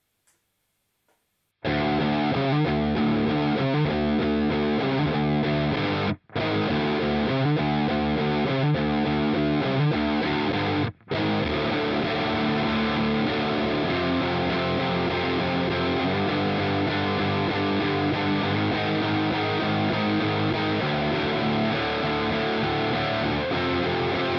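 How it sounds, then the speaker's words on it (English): Heavily distorted electric guitar riffing through a Pro Co RAT pedal into a Marshall amp, loud and continuous, with two brief gaps of silence early on. "which is the Proco Red, and it sounds like this into my Marshall"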